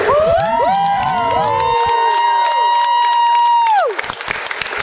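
A banquet crowd at a GNCC off-road racing awards event cheers, whoops and yells loudly, with swooping shouts layered over steady applause that thins out near the end.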